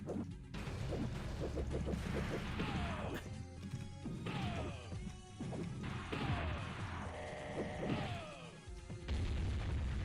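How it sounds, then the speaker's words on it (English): Repeated explosions in the video game Shinobi (SF Ninja HD Remix) crash and boom one after another, dense and overlapping, with bursts and thuds filling the whole stretch at a moderate level. "so much explosions going on."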